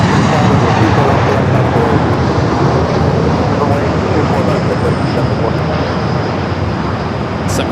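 American Airlines airliner on short final to runway 24 right at Los Angeles International, a loud, steady wash of engine noise close by, with a voice speaking under it.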